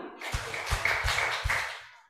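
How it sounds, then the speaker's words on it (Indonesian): A group claps together during a Christmas church service, a few loose, slightly ragged claps spread over two seconds against a reverberant hall. "Tepuk 4 kali."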